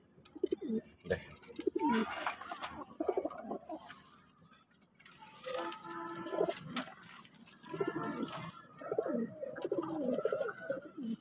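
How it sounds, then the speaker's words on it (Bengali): Pigeons, including red birds and a black female, coo in repeated throaty bursts close by, while a person talks between and over the calls. "কালোটা মাদি কবুতর, কালোটাও দেখেন, চোখগুলা দেখেন অসাধারণ"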